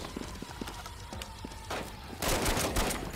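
Shotgun fire in the video game Black Hawk Rescue, a couple of loud close blasts over busy game noise and clattering effects, growing louder toward the end.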